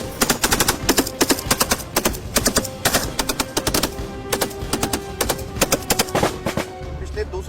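Rapid volleys of Indian Army rifle fire from the 2nd Battalion Rajputana Rifles ring out on command, loud, sharp reports crowding together in quick bursts throughout, with no talking over them.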